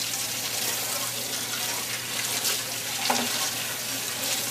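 Tap water runs steadily into a sink while RC car tires and parts are rinsed off after a detergent wash, a continuous close splashing hiss with slight changes in the flow.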